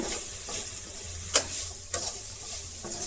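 Crushed garlic sizzling in a pan while being stirred, a hissing fry with a couple of sharp scraping clicks from the spatula, close and alone.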